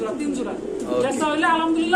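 Farm pigeons coo softly close by while someone talks over them for the whole moment.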